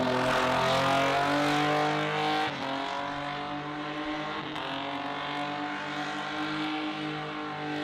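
A Suzuki Vitara doing a tyre-skidding burnout at a sports compact drag racing event in Adelaide, a loud revving engine whine with squealing tyres, easing slightly after a couple of seconds.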